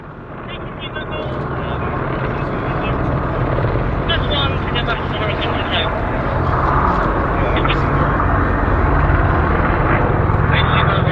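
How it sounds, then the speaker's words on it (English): AH-64 Apache helicopter flying at an airshow, a loud continuous rotor and engine roar that builds slightly and holds steady throughout, with a voice talking over it. "The Apache cruises at 140 miles per hour"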